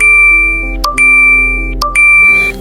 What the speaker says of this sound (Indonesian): bunyi nih notifikasi HP-nya si Arya